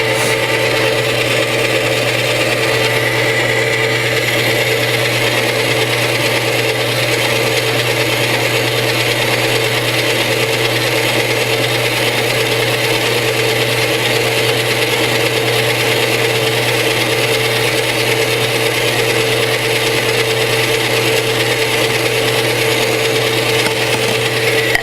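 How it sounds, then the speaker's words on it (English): Chocolate torte batter being mixed until smooth, a steady, loud mechanical whir with a constant hum that runs unbroken from start to finish. "Make sure you continue to mix it until all the lumps are out"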